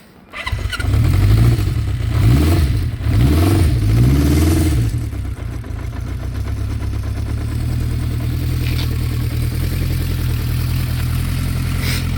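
A 1972 Honda CB500K1 motorcycle engine cranks and fires, revs in a few rising swells, then settles into a steady, loud, close idle with no talking.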